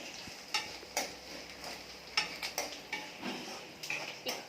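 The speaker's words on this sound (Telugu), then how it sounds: "సో ఇప్పుడు ఆయిల్ వేసైతే ఇందాక నేను చూపించిన దినుసులన్నీ అలా వేసేసింది" Whole spices crackling in hot oil in a pan, giving a steady run of small pops and ticks with scraping stirs, near and fairly soft, no voices.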